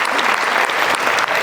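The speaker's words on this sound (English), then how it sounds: "So just a quick round of applause" A convocation audience at Lone Star College-University Park breaks into a brief, loud burst of sustained applause, the many hands blending into one continuous wash.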